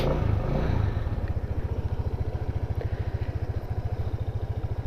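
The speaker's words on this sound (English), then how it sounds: "Very nice quiet idle." A scooter engine idles steadily nearby with an even, quick putter, slightly louder at the start before settling into a low, regular chug.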